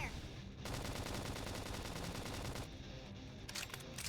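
Rapid automatic gunfire from the video game Xenoblade Chronicles X, a continuous rattling burst that cuts out abruptly, followed by a few sharper shots and effects.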